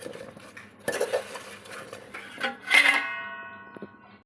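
A spoon mixes spiced pointed gourd (potol) in a dish for a potol chorchori, with scraping and clinking of metal on the dish throughout and a brighter clatter near the end.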